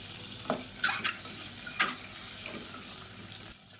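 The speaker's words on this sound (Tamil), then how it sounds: "இப்போ இந்த முட்டையை லேசாக வறுத்துக்கலாம்" Boiled eggs fry lightly in oil in a pan for biryani, a low steady sizzle broken by several sharp scraping or spatter bursts, close and without talk.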